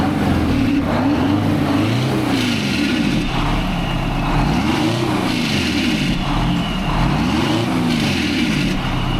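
A 1972 Peterbilt cabover truck's engine runs steadily nearby and revs up and down in repeated swells over a constant low rumble.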